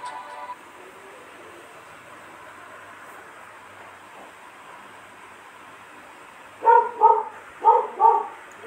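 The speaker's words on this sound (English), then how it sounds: "Please don't mind the dog." A dog in a home, near a person playing a WW1 mobile shooter game, barks four times in quick succession near the end, fairly close and loud after a long stretch of low steady hiss.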